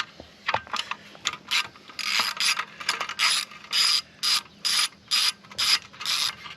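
A ratchet loosens bolts on the exhaust of a 2024 Kawasaki ZX6R 636, giving close, crisp bursts of rapid clicking in a steady back-and-forth rhythm, about a dozen strokes in quick succession.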